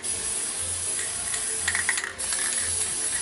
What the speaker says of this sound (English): We just spray down our gaskets.